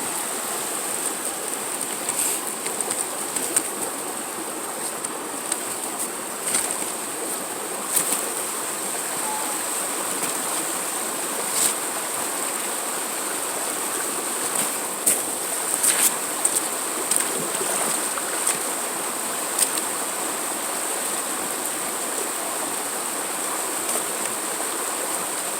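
Steady rush of a stream while gold is panned in winter, water swirling and sloshing in the pan with scattered small clicks and splashes, continuous and fairly close.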